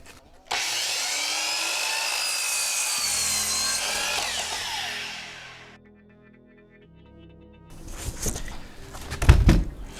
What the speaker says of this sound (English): just bring over to the chop saw.